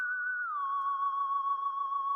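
An FL Studio synth lead with the drive effect at full, a single sustained tone that slides down slightly early on and then holds steady and bright with buzzy overtones, alone and close.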